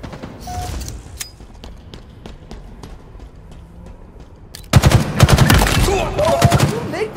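Halo Infinite Tactical Slayer match with scattered distant single shots, then a sudden loud close burst of rapid automatic gunfire that continues to the end.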